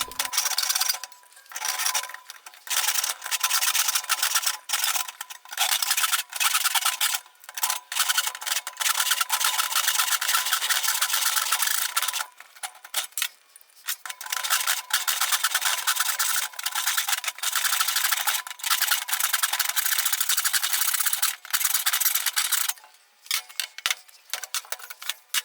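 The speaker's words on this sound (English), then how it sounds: "when I do start sawing, which is now, I'm going to stop talking and just let you enjoy those soundy sounds" Hand saw cutting through wood with a steady run of rough, rasping strokes, loud and close, broken by short pauses between bursts, with no talking.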